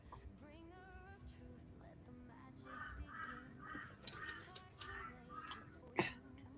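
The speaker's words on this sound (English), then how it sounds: "Can you guys hear the crows? They're going off this morning." Several crows caw repeatedly outdoors, harsh calls in an irregular series, moderately distant, with a faint voice briefly in the background.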